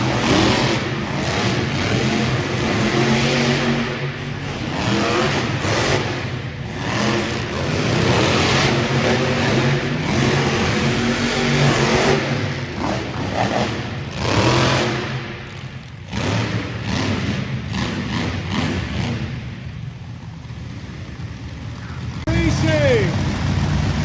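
Monster trucks roar and rev at a monster truck show in Pendleton, South Carolina. The loud engines rise and fall continuously, and an announcer's voice and crowd noise come through over them.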